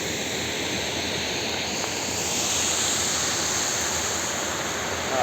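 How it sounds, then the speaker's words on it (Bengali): A waterfall rushes steadily, producing a loud, broad roar that stays constant throughout, with no voices. "ঝর্ণাটা খালি দেখো, আর চিল ঠান্ডা জল, আর এই ঝর্ণা"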